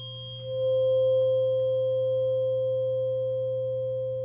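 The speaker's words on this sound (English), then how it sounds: "528 tuning fork. This is the body's natural healing frequency." A 528 Hz tuning fork rings with a steady, pure sustained tone that swells just after the strike and holds loud and even with almost no decay, alone without any voices.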